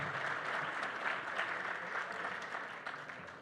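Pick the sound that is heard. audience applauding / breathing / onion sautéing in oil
audience applauding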